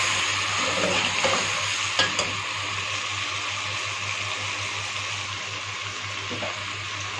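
Ginger and garlic frying in oil in a pan, with a steady, close hissing sizzle and light stirring scrapes running throughout, no voices.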